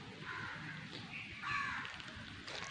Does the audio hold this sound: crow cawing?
yes